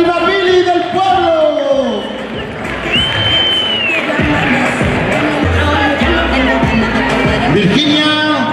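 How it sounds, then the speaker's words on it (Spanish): An adult carnival costume contest audience in Dos Torres, Córdoba, cheers, whoops and claps in a loud, continuous burst of crowd noise, with shouting voices mixed through it. "¡Un aplauso para la Antonia!"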